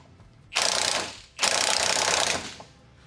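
Spring compressor working on the suspension of a 1966 Chevelle, two long loud bursts of rapid mechanical ratcheting close by, separated by a short pause, with no talk.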